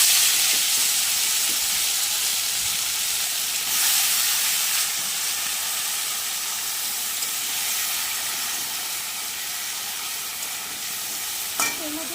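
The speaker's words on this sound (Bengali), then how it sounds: "এবারে এর মধ্যেই আমি কেটে রাখা সজনের ডাঁটা আর আলুগুলো দিয়ে দিচ্ছি।" Steady loud sizzle and hiss as drumstick stalks and potatoes cook in a fish curry pan, with faint stirring scrapes throughout and a brief clatter near the end.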